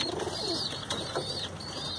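Soft pigeon coos repeat over a steady background hum, fairly close and moderately quiet, with no voices, from sick pigeons vomiting from the cold.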